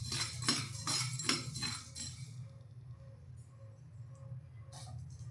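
Fenugreek and fennel seeds stirred together in a dry pan, giving several sharp metallic scrapes and clinks in the first two seconds, then a quieter low hum with faint rattles.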